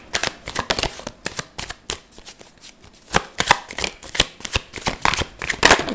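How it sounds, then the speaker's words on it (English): Tarot cards are shuffled by hand close up, with repeated crisp riffling bursts and slaps in an irregular rhythm over six seconds and no talking. "let's get some more cards out here and see."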